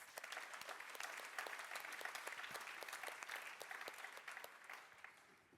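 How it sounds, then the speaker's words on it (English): An audience at a startup accelerator demo day in Torino claps for partner networks, a dense, even round of applause from a large crowd lasting several seconds, somewhat distant and fading slightly at the close. "Another round of applause for our global partner networks."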